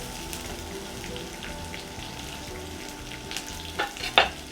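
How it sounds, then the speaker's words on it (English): Chillies frying in a wok for salt and pepper squid, a soft continuous sizzle with light crackles and a couple of sharper spits near the end. "Get those chilies in."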